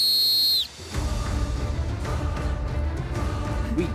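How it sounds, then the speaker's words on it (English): A single sharp referee-style whistle blast, loud and close, starts a beach treasure-digging contest on a game show, followed by a burst of crowd noise and scrambling. "On my whistle."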